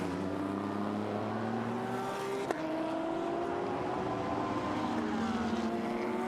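A Porsche GT race car lapping the Okayama circuit during GT Asia qualifying gives a steady, sustained engine note with rising and falling pitch, and a brief sharp blip partway through.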